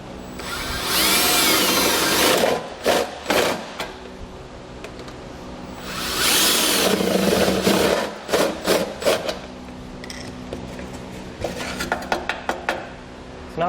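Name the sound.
power drill drilling holes in heat shield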